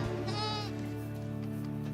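A genetically modified goat carrying a spider-silk gene lets out a single drawn-out bleat up close, over a steady low background hum.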